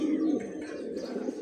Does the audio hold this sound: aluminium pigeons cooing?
yes